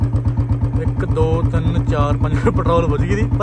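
A Royal Enfield Bullet BS6 motorcycle with an engine fault idles near the mic with a steady, thumping single-cylinder beat, while someone talks over it throughout.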